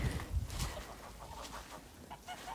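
Geese cluck and honk nearby in short bursts, a few calls scattered over a quiet outdoor village background.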